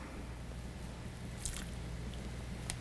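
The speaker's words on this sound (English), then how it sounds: "the juice of 1 lime that I'm gonna squeeze directly in" Juice from one lime squeezed by hand straight into a pot of Cajun-style white chicken chili: a faint, soft squish with a couple of tiny wet drips over a low steady hum.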